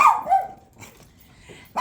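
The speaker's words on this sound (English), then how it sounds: "There's a neighborhood dog barking, and then my dogs hear that and start barking as well." Two sharp, close dog barks in quick succession, a quiet pause with faint distant barking from a neighborhood dog, then another bark starts at the end.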